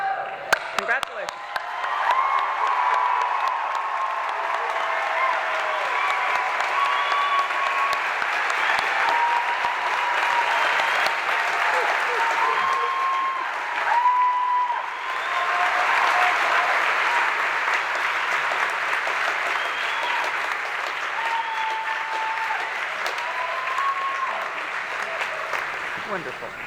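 A large commencement crowd at Willamette University's 2022 ceremony claps and cheers continuously for nearly half a minute, a dense roar of hands and whoops with a brief dip midway.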